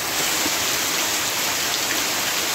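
Very heavy monsoon downpour near the Tansa dam after two days of continuous rain, a dense, steady roar of rainfall hissing on surfaces with no let-up and no voices.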